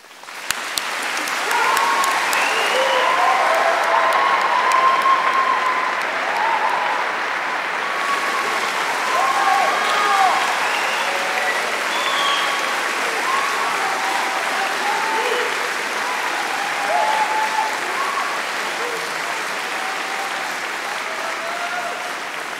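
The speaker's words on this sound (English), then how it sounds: "deserves to be acknowledged by a round of applause." A long, sustained round of applause from a large crowd at a University of South Wales graduation ceremony, steady dense clapping for over twenty seconds with faint murmurs and cheers mixed in.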